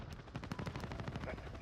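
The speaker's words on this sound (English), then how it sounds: "Guns. Still firing." A chopper gunner's machine gun in the video game Modern Warfare 2019 fires a steady rapid stream of muffled, evenly spaced shots, faint and distant in the mix, with a soft rumble beneath.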